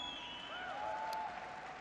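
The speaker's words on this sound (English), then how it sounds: "Give them a big round of applause." Troops applauding for the 101st Airborne Division Band at an event in Afghanistan, a steady, moderate wash of clapping that holds evenly throughout without rising or fading.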